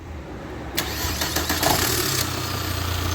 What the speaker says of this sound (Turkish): Motor çalıştırmaya hazır.